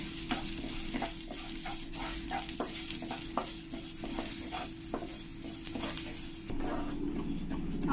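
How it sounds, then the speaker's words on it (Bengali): Mung dal frying in ghee in a wok, with a steady close sizzle broken by repeated scraping stir strokes, growing a little louder and fuller near the end. "এবার আমি এই ঘিয়ের মধ্যে এই মুগ ডাল কটা ভালো করে লাল লাল করে আমি ভেজে নেব।"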